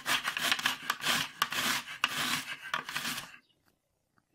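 Green mango skin scraped off with a blade, a close, steady run of rough rasping strokes in a quick rhythm for about three seconds before it stops abruptly into near silence.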